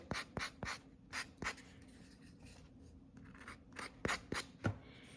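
Paper edges of a watercolor Christmas ornament being sanded smooth, a series of short, close rasping strokes in uneven bursts with quiet gaps between them.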